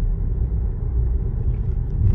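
Steady low rumble of a car on a road test, a German car with about 98,700 km on the odometer, its engine and road noise droning evenly from inside the cabin with no voices.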